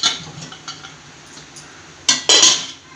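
Metal pot lid lifted off a steamer of kozhukattai, a couple of bright clanks and clinks close by after light rattling, with no voice over it.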